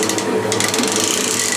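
Lathe tool post being wound over by hand, a quick run of close ratcheting, clicking mechanical sounds with no talking.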